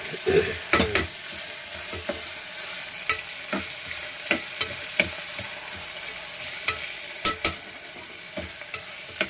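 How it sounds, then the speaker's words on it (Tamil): Ingredients for a vegetable rice being sautéed in a pan: a continuous sizzle broken by frequent sharp clacks and scrapes of a spoon stirring against the metal, loud and close. "நல்லா வதங்குற அளவுக்கு கிண்டணுமா?"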